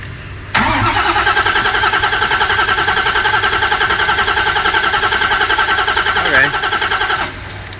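A freshly built engine cranking over on the starter for a compression test. The even, rhythmic churn is loud and close, lasts about seven seconds without firing, then stops.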